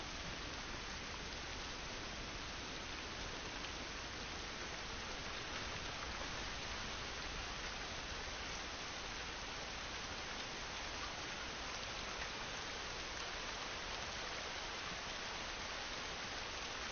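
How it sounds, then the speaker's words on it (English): Steady rain falls outdoors, an even and unbroken hiss of drops that holds at a moderate level throughout with no voices. "It's raining, but it'll do us any good."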